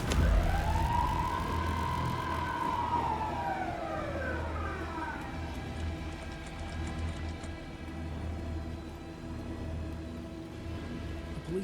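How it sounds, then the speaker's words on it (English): Police car siren in the video game Alan Wake 2: one loud wailing sweep rises and falls at the start, then fades into a steady background drone with no voices. "A police car? Not important to the story."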